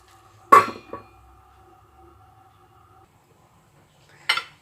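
A metal lid set down on a pot of freshly cooked rice with raisins and curry: one sharp clank, a softer knock just after, then quiet, and a second metallic clink near the end.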